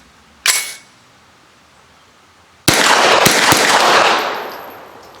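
A Freedom Ordnance FX-9 pistol loaded with a Glock factory magazine fires outdoors: one sharp shot, a pause, then a rapid string of several close, loud reports that ring out and fade, with no talking.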